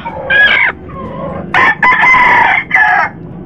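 A brooding mother hen makes a series of loud, close squawking clucks in uneven bursts, with short pauses between calls.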